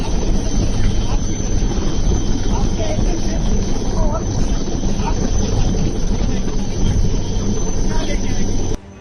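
An army rescue helicopter flies over flooded Chikhli taluka in Navsari, its loud, continuous rotor and engine roar filling the scene, with voices mixed into the noise.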